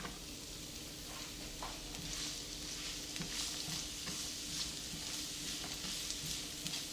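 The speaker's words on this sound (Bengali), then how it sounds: "ঘিয়ের মধ্যে পেঁয়াজ এবং শুকনা মরিচটা আমি ভেজে নেব।" Chopped onion and dried chilli fry in hot ghee with a steady, close sizzle and crackle, broken by occasional stirring scrapes throughout, with no voices.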